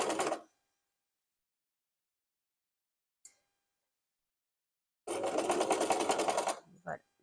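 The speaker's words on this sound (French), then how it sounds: "Je couds jusqu'à croiser le début de l'oreille." A sewing machine stitches fabric for an Easter basket project, starting with a short whir, then a long steady buzzing run that stops abruptly, with a brief click between the runs.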